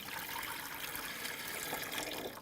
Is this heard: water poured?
yes